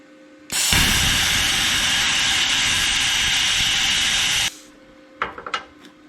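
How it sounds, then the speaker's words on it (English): A power drill bores a hole into a transmission mount on an 84 Ford F250 with a twin turbo IDI diesel in a shop; one loud, steady whirring burst of about four seconds, then a few short clinks. "I'm gonna measure back an inch and drill a hole"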